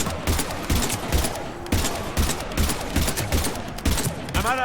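Dense, rapid gunfire from a Mass Effect 3 battle, near and loud, with sustained bursts and scattered sharp shots running throughout while distant voices shout under the shooting.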